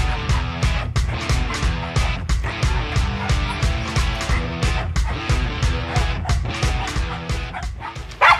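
Wet dogs outside after a spa grooming day, barking and yipping in a steady rapid rhythm with whimpers mixed in, loud and close throughout, with a sharp burst near the end.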